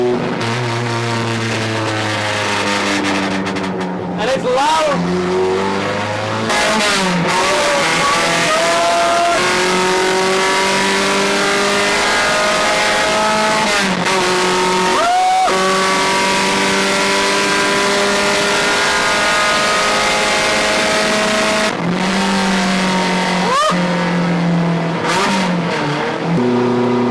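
A modified Suzuki Zen budget race car with a 1.6 litre high-compression Suzuki engine screams around a track, loud and close, revving hard through repeated shifts and throttle lifts with sharp pitch swings.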